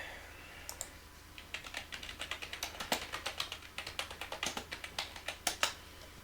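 A computer keyboard typed on steadily while coding a database connection, with quick clattering key taps in a brisk, uneven stream and a few louder strikes, close and distinct, with no talking.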